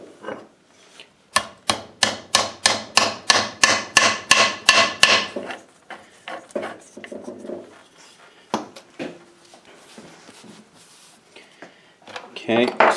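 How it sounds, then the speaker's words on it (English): A taper pin is hammered into a South Bend 13-inch lathe gearbox during reassembly: a rapid, even run of about fifteen sharp metallic hammer blows, then scattered lighter taps and clinks, with someone talking quietly at times. "Just lining up a taper pin here."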